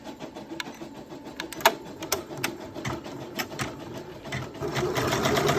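An MB4S embroidery machine stitches a t-shirt held in an 8x9 hoop, giving a rapid, steady mechanical chatter of needle strokes with sharper clicks, close and fairly loud with no talking.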